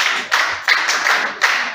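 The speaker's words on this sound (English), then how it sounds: "Clap for him." Scattered clapping from a small classroom audience, a few bursts of hand claps over under two seconds, fairly close and uneven rather than a full ovation.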